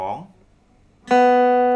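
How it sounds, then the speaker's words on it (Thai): A single plucked acoustic guitar note on the second string rings out clearly and sustains, following a brief fading tone at the start. "อ่าหลังจากนั้นเพื่อนๆดีดสาย 2"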